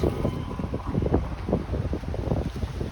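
Wind gusting steadily across a microphone outdoors on a city street during a walk, a continuous low rumble that rises and falls, with no voices.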